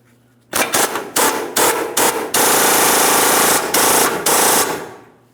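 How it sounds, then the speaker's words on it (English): An 18mm wrench loosens a torsion bar bolt on a 2007-2014 GMC Sierra 2500 HD, likely an impact tool: loud close bursts of rapid hammering, several short rattling pulses and then a longer sustained run. "We're using an 18mm to start loosening this, turning it counterclockwise."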